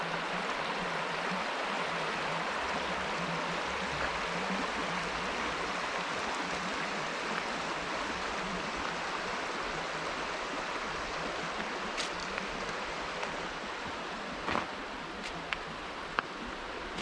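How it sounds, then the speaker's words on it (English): Water rushes steadily through a creek in the Mill Creek Park east gorge, Youngstown, Ohio, a constant broad hiss of flowing water, close and unbroken for the whole stretch, with a few faint clicks near the end and no talking. "I love the sound of the water."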